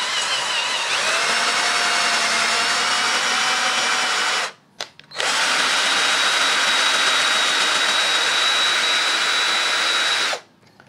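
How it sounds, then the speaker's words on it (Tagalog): Portable cordless drill running at a steady high whine, close and loud, with a brief stop near the middle before spinning up again for several more seconds, no talking. "para hindi masyado parsado tong portable drill natin"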